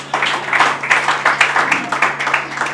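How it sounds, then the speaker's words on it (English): Guests at a wedding ceremony clap together, a steady patter of many hands rising and falling over nearly three seconds, fairly close, with a low steady hum underneath. "Can we clap for them?"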